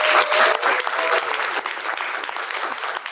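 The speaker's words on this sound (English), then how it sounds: "can we also get a round of applause for every one of them?" Sustained, dense applause from an audience at a veterinary student congress in Nepal, honoring a team from eight countries; steady and fairly loud for about three seconds with no distinct speech.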